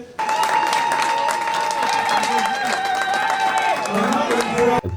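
Loud, sustained applause from a crowd greeting Mireille Kileshe-Sekwe, president of the women of the Fondation katangaise, as she takes the floor; dense clapping fills the whole stretch with a steady crowd roar and faint tonal sounds beneath.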